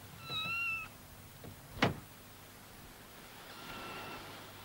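A shut-in kitten mews from inside a boat cabin, a few thin, high cries near the start followed by a brief louder sweep, then quiet with faint background hiss.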